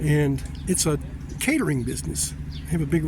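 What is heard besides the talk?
No everyday noise stands out behind the speech.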